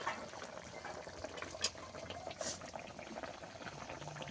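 Bhetki fish and taro stolons in a curry simmer in water, giving faint, continuous bubbling with a few soft pops, quiet and close.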